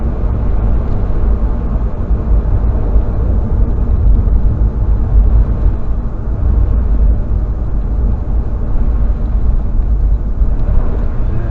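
Steady, dense traffic on a busy road rolls past as a continuous low rumble of engines and tyres, fairly loud and unbroken for the whole stretch, with no voices.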